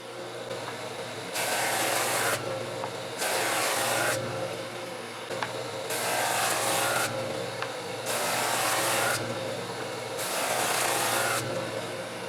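A Flatmaster drum sander works a soft, gummy pine board in five rhythmic passes, each a roughly second-long burst of hissing abrasion over a steady motor hum.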